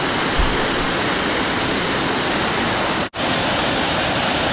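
A waterfall roars as heavy water crashes down into other water, a loud, continuous rushing wash; the sound cuts out for a split second near the end before resuming at full strength.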